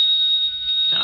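A telephone rings with one short, bright, steady electric trill lasting about a second, loud and close with nothing else behind it.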